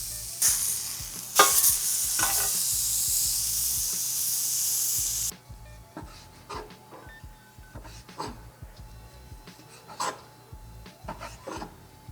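Salmon fillets in vegetable oil sizzle loudly and steadily in a hot skillet for about five seconds, then the hiss drops to a quieter, crackling simmer with scattered clicks and scrapes.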